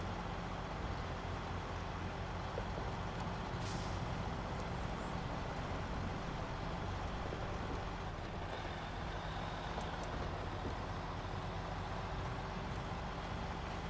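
A truck engine in a driving game set in British Columbia drones steadily and moderately loud throughout, with a faint high hiss and occasional soft clicks, no voices.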